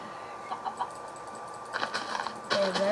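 Chickens in Minecraft cluck in short bursts over a low electronic hum, the clucking growing busier and louder toward the end.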